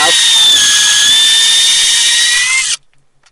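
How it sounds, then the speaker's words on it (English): A power drill boring a tap hole into a maple tree, a loud, close, steady high-pitched whine that runs for under three seconds and then cuts off abruptly. "So let's do a hole right there."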